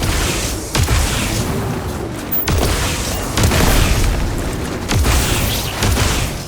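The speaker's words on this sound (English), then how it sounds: "It comes in the form of a laser cannon" A REV-8 rover's laser cannon fires in the video game Starfield, a series of booming blasts at roughly one-second intervals over a loud, continuous rumble, with no talk.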